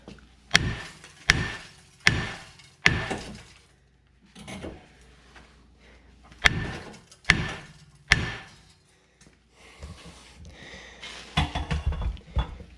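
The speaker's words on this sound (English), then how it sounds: "We're going to go ahead and knock this rotor free." A hammer strikes a seized brake rotor on a 2013 Dodge Grand Caravan, giving heavy metallic whacks in spaced bursts of two or three, close and loud, with quieter rummaging noises between them.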